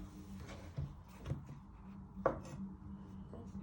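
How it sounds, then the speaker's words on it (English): A knife chops a courgette on a board in a home kitchen, a few quiet, separate thuds spaced out over the clip with faint background room noise. "Then you want to chop it in half."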